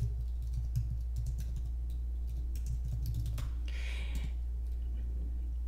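Quick bursts of keystrokes clatter on a computer keyboard as a search is typed, soft and close with short pauses between runs of taps, no voice heard.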